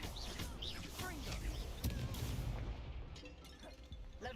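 A Confringo explosive spell blast goes off in a Harry Potter video game, a dense burst of booming impacts amid busy game audio, with voices talking over the mix.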